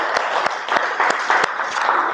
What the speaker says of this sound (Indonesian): kita beri tepuk tangan untuk sebuah kelompok